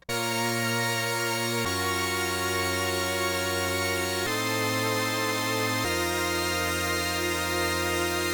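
Arturia OP-Xa V synthesizer playing a dry chord progression with no effects: four sustained, full-bodied chords, each held about two seconds, changing cleanly with steady loudness throughout.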